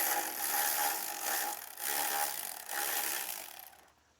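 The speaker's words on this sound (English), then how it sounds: "there's a 10mm nut over here that I'm gonna remove" A ratchet wrench undoes a 10mm nut on the NOx sensor control unit of a diesel Audi Q7, with steady rapid clicking in a few long bursts and short pauses, close up and ending in quiet, with no talking.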